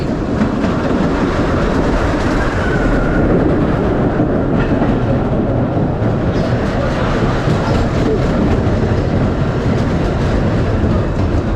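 A 1932 Scenic Railway side friction roller coaster at Bakken rumbles and clatters continuously along its track, loud and close from onboard, with rattling cars, wheel roar and faint voices beneath.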